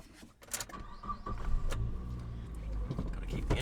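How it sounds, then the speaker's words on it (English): A car engine idles steadily with a low rumble near a gravel road by a lake, with a brief whir like a power window and small clicks early on, and no talking. "Gotta keep the engine going"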